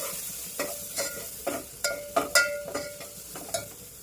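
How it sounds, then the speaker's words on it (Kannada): Ground spice powder and mustard seeds frying in a little oil for tomato rasam, giving soft sizzling with a series of sharp stirring scrapes and clinks at a steady pace, close and moderately loud, with no talking. "ಈ ಥರ ಫ್ರೈ ಮಾಡ್ಕೋಬೇಕು."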